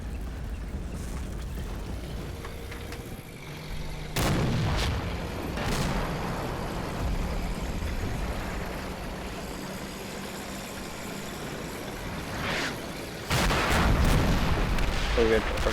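Artillery fire in the Combat Mission Red Thunder war game, with several booming impacts spread across a steady rumbling battlefield background.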